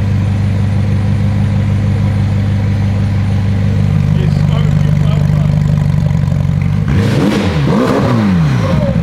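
A wrecked McLaren 720S engine runs roughly and steadily, holding a loud uneven drone before a sudden flurry of revs near the end, with people talking over it.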